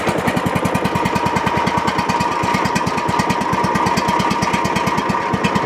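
Snapper LT200 riding mower engine running on choke with a little throttle, a loud, steady, rapid chugging pulse heard close up with no talking over it.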